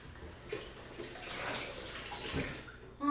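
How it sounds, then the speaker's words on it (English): Tap water runs steadily for a few seconds as a lime is rinsed under a kitchen faucet, with a soft splash and a brief clatter near the end. "Go rinse that one off."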